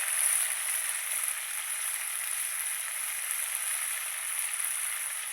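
Beans sizzle and fry in a pan, a loud, steady crackling hiss that runs unbroken from start to finish with no talking.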